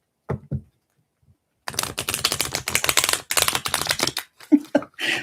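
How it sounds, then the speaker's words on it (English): A deck of spiritual reading cards is shuffled by hand. Two short taps come first, then a pause, then several bursts of rapid fluttering riffles and a few clacks, close and fairly loud, with no speech. "Shuffle real quick, guys."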